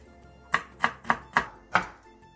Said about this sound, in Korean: 씻은 묵은지는 대가리를 포함해 먹기 좋은 크기로 잘라주세요.